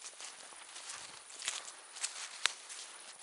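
Soft footsteps crunching on a leafy forest floor, a few distinct steps among steady rustling, close by.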